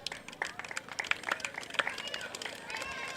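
Children at a school ceremony clap for their teachers, a scattered, uneven patter of close hand claps mixed with crowd chatter.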